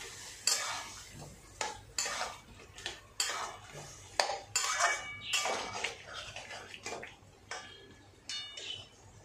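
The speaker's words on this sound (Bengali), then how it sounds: "এবার এই মশলা দিয়ে ভালো করে কষাবো" Spices sautéed in a pan with a spatula, uneven scraping strokes and clinks of metal on the pan over a low sizzle, close and steady.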